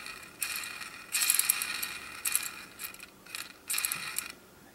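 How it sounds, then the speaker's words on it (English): A spare gear from a G&G airsoft gearbox spins freely, giving bursts of light ratcheting, clicking mechanical whir in several short spells over about five seconds, close and fairly quiet with no talk. "Gear spins pretty nicely by itself."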